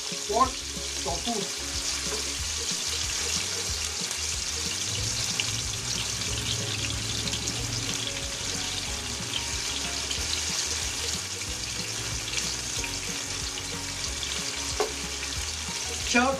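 Pork and tofu frying in a pan, a steady loud sizzle and crackle that carries on unbroken, with faint clinks and stirring scrapes underneath and no talk.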